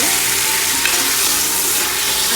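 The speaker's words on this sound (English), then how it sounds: "So I'm gonna be frying these up for a little." Chicken legs, back and other pieces fry in a pot for a Guyanese chicken and provision soup, giving a steady, loud, continuous sizzle with light stirring that runs through the whole stretch with no talking.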